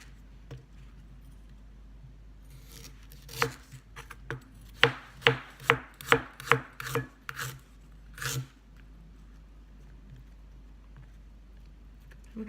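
Ginger being cut with a knife on a cutting board, a run of about ten sharp, close chops in quick rhythm, then one last thud.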